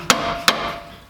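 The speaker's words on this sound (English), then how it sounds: "Hit your ratcheting wrench with a dead blow hammer." A dead blow hammer strikes a ratcheting wrench twice in quick succession, two sharp close metallic whacks about a third of a second apart, each followed by a brief ringing decay.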